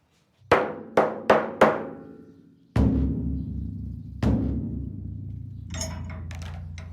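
Sharp knocks on the wooden side and skin head of a hand drum being tuned by a craftsman; four quick taps ring out, then two heavier resonant strikes with long decays, followed by faint scraping.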